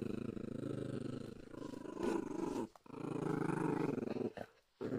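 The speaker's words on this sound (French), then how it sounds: "Pourquoi tu grognes?" A dog growls low and steadily at close range, the rumbling continuing with brief pauses.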